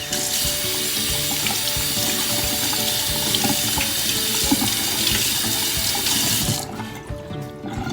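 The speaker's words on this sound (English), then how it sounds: "So wash your thyme." Tap water runs steadily into a kitchen sink while fresh thyme is washed for Jamaican rice and peas. A loud, continuous rushing splash plays up close and stops abruptly near the end.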